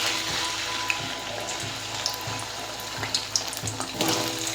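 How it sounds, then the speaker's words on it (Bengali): Taro pieces fry in oil with a continuous close crackling sizzle, dotted by small pops and occasional soft knocks throughout. "এবার কচুগুলো ভেজে নেব।"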